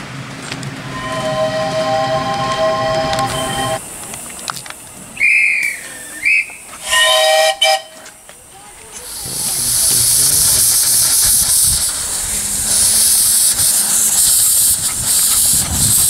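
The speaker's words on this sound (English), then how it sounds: "the Flying Scotsman miniature steam loco" The miniature Flying Scotsman 4472 steam locomotive gives several loud, sustained whistle blasts, then releases a long, strong hiss of steam that builds and holds to the end.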